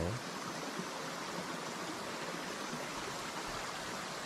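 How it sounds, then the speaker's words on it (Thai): Continuous broad rush of falling water, steady and even throughout, from Wang Kwang waterfall on Phu Kradueng in June at modest flow, heard from fairly close. "น้ำตกวังกวางในช่วงเดือนมิถุนายน น้ำยังไม่เยอะ แต่ก็พอทำให้เราชื่นฉ่ำหัวใจ"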